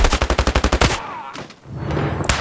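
Rapid automatic gunfire in a competitive first-person shooter video game, a loud burst of about a dozen evenly spaced shots, followed by a quieter stretch and a final sharp report.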